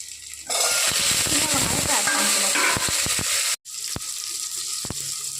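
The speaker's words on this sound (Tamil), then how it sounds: "கருவேப்பிலை போட்டு கட் பண்ணி வச்சுருக்க மிளகாயும் போட்டு ஒரு டூ செகண்ட் ஃப்ரை பண்ணிக்கணும்" Curry leaves and cut chilies drop into hot oil for a brinjal tamarind kuzhambu and set off a sudden loud sizzle. The spitting hiss holds steady, pauses briefly and then carries on frying close by.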